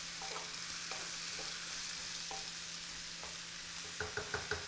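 Onion frying in a pan until translucent for a chicken curry, a soft continuous sizzle with occasional light clinks and a quick run of taps near the end, no voices.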